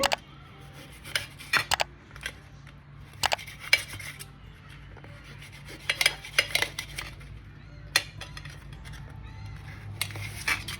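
An attukkal kizhangu tuber is cut into small pieces: a close, irregular series of sharp clicks and knocks arrives in clusters, separated by short quiet pauses.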